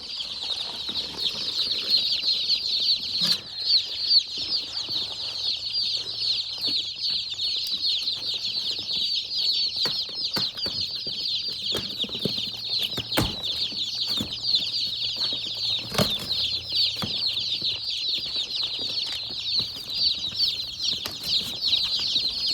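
Freedom Ranger broiler chicks give a dense, continuous chorus of high peeping beside a warm heat plate in a brooder, with occasional soft thumps and fluttering throughout.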